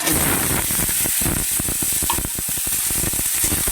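Green papaya pieces sautéing in hot oil with grated ginger in a pan, a loud, dense, continuous sizzle with rapid clicking stirring strokes, up close and without speech.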